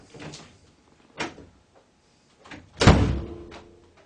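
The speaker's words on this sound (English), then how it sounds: "We've fixed a sticking door by tweaking or adjusting our top hinge." Interior door, freed from sticking after a top hinge adjustment, opening and closing: light clicks and creaks, then a firm solid thud as it shuts, close and clear with no talking.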